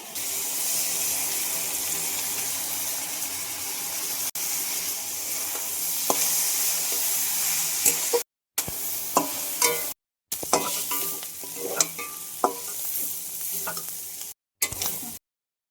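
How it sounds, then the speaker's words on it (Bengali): Banana flower with potato and spices frying and being stirred in a pan for chicken liver bhuna, a steady sizzle with scraping stir strokes and brief breaks. "ভালো করে আলু মশলার সঙ্গে কষিয়ে নেব"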